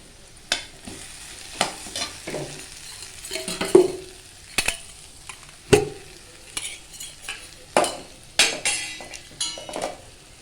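Vegetables sauté for kara kuzhambu in a pan, a soft frying sizzle punctuated by repeated sharp clinks and scrapes of a metal spoon against the vessel at an irregular pace, close by.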